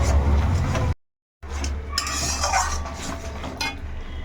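Mutton with turmeric and chili powder is stirred hard in a pan, with steady frying sizzle, scraping and clinks of a spatula against metal, close and continuous apart from one short break.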